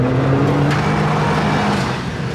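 JDM mini truck with a lift kit drifting off road, a steady close engine drone with a continuous hum throughout, no voices.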